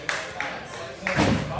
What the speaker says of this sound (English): That's a rare clap